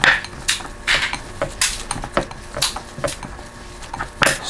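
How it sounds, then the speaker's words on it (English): Seasoned ground beef mixed in a bowl for burger patties, irregular close knocks and clatters of utensil against the bowl, several sharp taps spaced through the stretch with quiet gaps between. "We are going to mix it well and make our patties."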